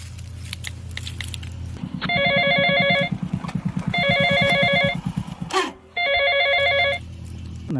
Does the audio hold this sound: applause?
no